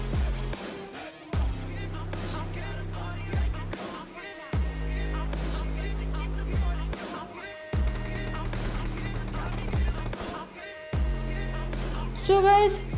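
Gunfire in the mobile battle-royale game PUBG Mobile: a run of sharp, loud shots scattered across the span, over steady in-game background tones.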